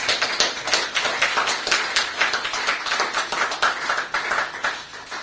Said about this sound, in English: the entire panel so far deserve a rousing round of applause